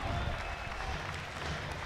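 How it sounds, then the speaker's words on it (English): Baseball stadium crowd at a Cardinals–Mets game cheering and applauding during a long at-bat, a steady dense roar of many voices and claps throughout, fairly loud with no pauses. "And the crowd getting into it."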